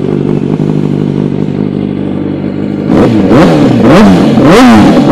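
A 2007 Yamaha YZF R1 inline-four with a GYTR exhaust idles close by, then revs sharply several times in quick rising and falling bursts, loud with no talk.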